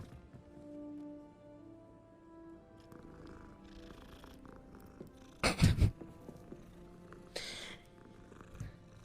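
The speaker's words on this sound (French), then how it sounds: "Un chat." A cat in the video game Hogwarts Legacy purrs and gives a few short, louder vocal bursts over soft game ambience and music, with no talking.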